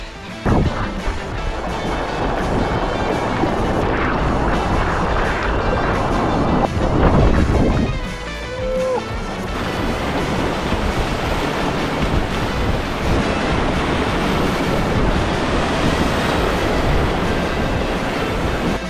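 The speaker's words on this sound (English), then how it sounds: "John boat in the rapids" Loud, continuous rushing water churns and splashes around a johnboat moving through rough river rapids in Kentucky, with a brief surge near the middle.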